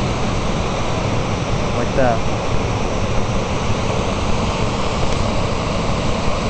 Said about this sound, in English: You can see the level of the stream up there, and then the water coming out down here.